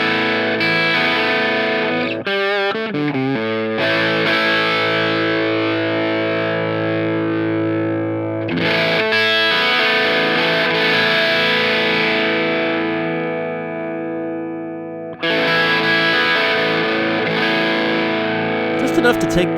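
Electric guitar through a Tuller Audio Moon Jelly overdrive pedal as its treble control is adjusted, loud sustained distorted chords ringing out with a few choppy muted strums between them, playing continuously with no talking.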